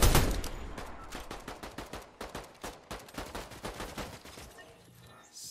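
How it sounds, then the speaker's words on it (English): Repeated gunfire in a Fortnite battle during a fight over a hill, a dense run of sharp bursts and rapid shots at fairly even intervals, loud at first and then a little fainter, with no talk over it. "more gunfire now coming across the way here"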